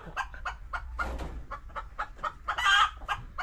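Chickens in battery cages on a small farm, clucking and squawking in a busy overlapping run of short calls, close and fairly loud, with one louder burst of cackling near the end.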